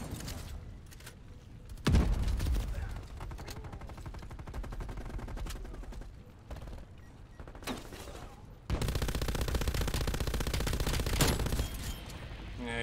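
Automatic fire from an MG 82 machine gun in Call of Duty: Black Ops Cold War comes in several rapid bursts of varying length, loud and close, with a brief sharp thump among them.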